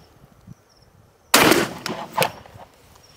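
A Fabarm XLR Columba Palumbus shotgun fires 36-gram cartridges at a target, one sharp loud blast followed by a couple of rolling echoes, with quiet background before it.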